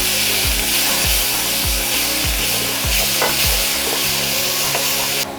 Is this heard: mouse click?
no